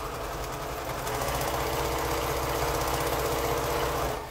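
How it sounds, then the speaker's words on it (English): A sewing machine stitching quilt pieces together runs in one steady, loud, rapid whirring burst up close, then stops. "And then I can sew those two together."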